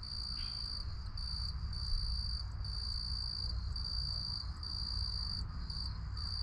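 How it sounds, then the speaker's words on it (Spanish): Crickets chirp steadily in a continuous high-pitched trill with brief regular pulses, faint and alone against a quiet background. "Vamos a dejarlos con esta dulce melodía de los grillos."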